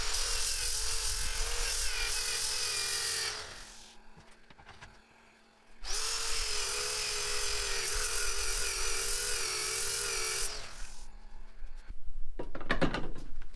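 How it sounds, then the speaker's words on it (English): A wooden cookie jar spins on a woodturning lathe while its outside is sanded, giving a bright, whirring hiss in two long stretches split by a quieter pause, with clattering handling noises at the end. "I'm going to sand the outside of this before I try to separate it."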